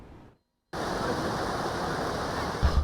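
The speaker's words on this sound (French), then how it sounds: "De loin, on entend le bruit des vagues déferler." Waves break at the Yoff fishing quay in a steady, dense roar of surf that begins abruptly after a brief quiet moment and continues unbroken.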